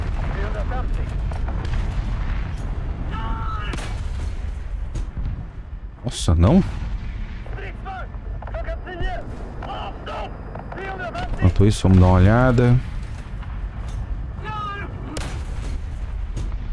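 Tank cannon shots boom in the War Thunder VIDAR tank, with loud sharp blasts around six and twelve seconds over a steady engine rumble while someone talks throughout.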